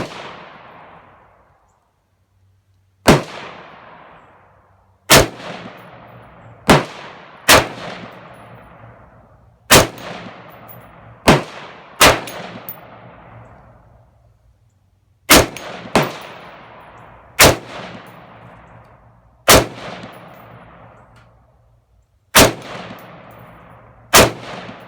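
Palmetto State Armory M4 carbine with Magpul furniture firing single shots at an outdoor range, loud sharp cracks spaced irregularly, some in quick pairs, each ringing out briefly with no voices.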